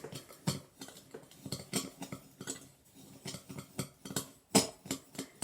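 Spoon stirring colour powder into granular Epsom bath salts in a bowl, a series of quiet irregular scrapes and gritty clinks at close range, with no voices.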